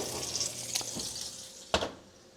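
Salmon fillets sizzle in an oven-safe frying pan with a steady, fairly loud hiss and crackle. Two or three louder spits and pops break through near the end.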